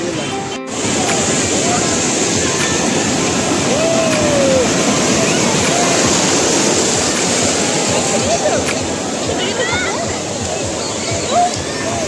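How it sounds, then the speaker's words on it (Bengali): Sea waves break continuously on the shore at Digha, a steady broad wash of surf filling the whole stretch with faint voices underneath. "তো ওদিকে ঢেউটা দেখো শুধু"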